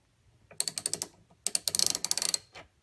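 Ratcheting 15 mm socket wrench turning the hex-head sight pusher on a Glock 19 slide, a close series of quick clicking bursts in two runs with a brief pause between.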